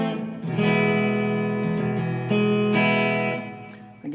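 A WestCreek Racer SG copy electric guitar rings out sustained chords through standard settings with light reverb and delay, loud and close, with a few fresh strums before the notes fade out at the end.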